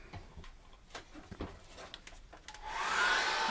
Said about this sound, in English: What I want to do now is dry that off with a hairdryer.